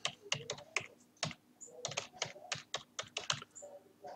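Rapid keystrokes on a computer keyboard, close and crisp, coming in irregular bursts of clicks with short pauses between them and no voices.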